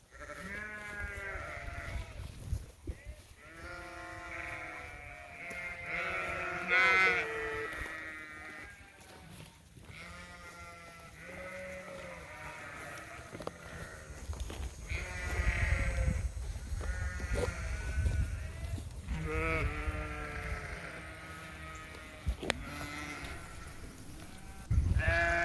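Sheep bleat repeatedly at a grazing area as a gate is opened and the flock moves through, several wavering calls overlapping from near and farther off over a steady outdoor background, with no talk.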